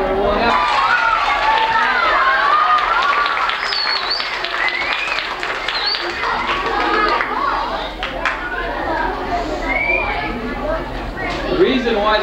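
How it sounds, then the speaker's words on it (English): Children clapping at a summer day camp, a dense patter of applause mixed with lively crowd chatter and voices throughout. "Why the kids are clapping"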